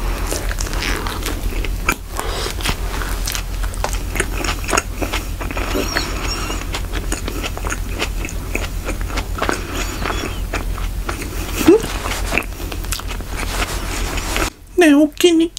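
Someone bites and chews a McDonald's Chicken Tatsuta burger up close, with soft crunches and mouth sounds running steadily throughout and a brief burst of louder crackling near the end.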